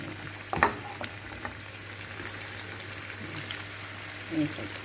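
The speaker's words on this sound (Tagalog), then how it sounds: "mainit na yung oil guys. Ilagay ko yung isda." Flour-coated fish lowered into hot oil, a steady sizzling hiss with a louder splash-like crackle early on, close by, while a voice speaks faintly in the background.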